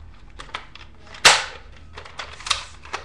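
A modded Nerf Maverick blaster fires a suction cup dart with one sharp, close pop in the middle, surrounded by lighter handling clicks and rattles before and after.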